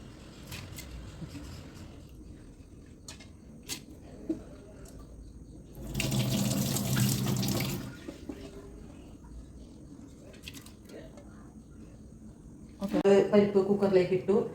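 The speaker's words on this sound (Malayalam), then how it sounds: "അത് നന്നായിട്ട് കഴുകി വൃത്തിയാക്കി നമുക്ക് കുക്കറിലേക്ക് ഇടുകയാണ്" Water runs from a kitchen tap twice in short bursts while toor dal is rinsed clean for the pressure cooker, the flow loud against quiet stretches with a person talking throughout.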